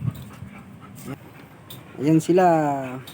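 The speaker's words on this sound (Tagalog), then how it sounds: "Ito yung bagong aso namin guys." An Aspin dog pants and lets out a short whimpering whine near the microphone, with a person talking briefly over it.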